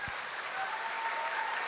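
Audience applause at a stand-up comedy show, a brief, steady hiss of many hands clapping from a distance, even and continuous for under two seconds.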